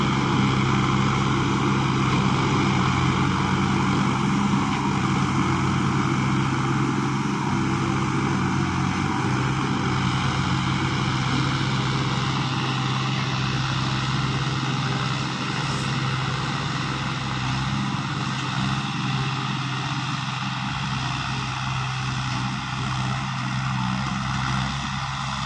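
Tractors run together at a steady drone, among them a New Holland 5620, John Deere 5405, Massey Ferguson 9500 and Eicher 333. The continuous engine rumble stays loud and unbroken throughout, with no voices.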